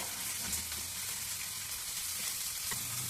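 Steady, even sizzling of a large chopped onion frying in hot oil, a continuous hiss without pauses and no talking.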